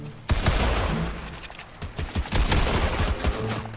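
Gunfire in the Fortnite video game, with dense, loud bursts of rapid shots and impacts running almost throughout, rattling volleys that pause briefly and then pick up again.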